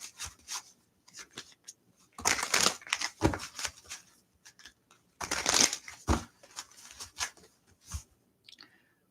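Tarot cards are shuffled by hand in short, soft rustling bursts with quiet pauses between them, close and fairly faint.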